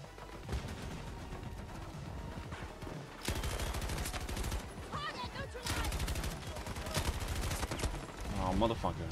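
Video game gunfire rattles in rapid bursts throughout, with dense automatic fire and scattered shots mixed with game sound effects, while someone talks over it.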